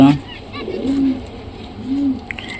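Caged pigeons, a male and female kept together for pairing, give soft low coos, two or three rounded calls close by with faint background noise.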